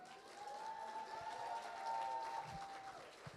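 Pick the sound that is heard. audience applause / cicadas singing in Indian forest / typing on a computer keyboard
audience applause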